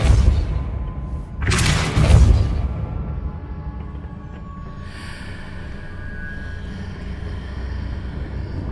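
A Depulso force spell going off in Hogwarts Legacy, a short booming whoosh and thud, followed by a low rumbling background hum.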